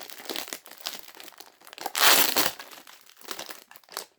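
Packing tape being torn and crinkled off Beyblade X packaging, a close, loud run of crackling, ripping bursts with a peak midway and no talk.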